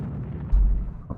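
Heavy naval gunfire in Rule the Waves 2, a single deep boom landing midway through a low rumbling background, followed by a smaller thud near the end, with no talking.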